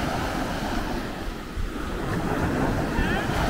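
Sea waves washing onto a beach on the Andalusian coast, a steady broadband surf roar with wind buffeting the microphone, continuous and fairly loud throughout.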